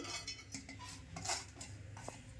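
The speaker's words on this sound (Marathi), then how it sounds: "आता मी पॅन ठेवला आहे, आता खोबरं भाजून घेते" Metal pan being handled on a stove while dry coconut is roasted for Maharashtrian dhaba-style shev bhaji, with scattered clinks and scrapes of a utensil against the pan over a steady background hum.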